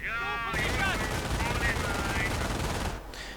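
An MG 42 machine gun firing in a World War II real-time strategy game: a continuous, dense rattling burst lasting about two and a half seconds that cuts off abruptly, heard alongside game effects.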